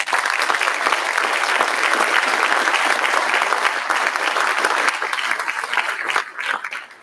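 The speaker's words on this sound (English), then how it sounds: "A round of applause for all of you." Sustained applause from an audience at a community scholarship night, a dense steady wash of many hands clapping at full volume for about six seconds before thinning out and tapering toward the end.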